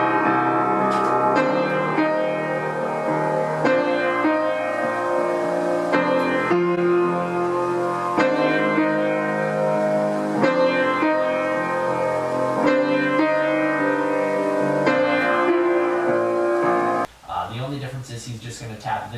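A piano cover of a piece from Shin Gojira plays steady chords with regular note changes, full and sustained, before cutting to a brief different sound at the end.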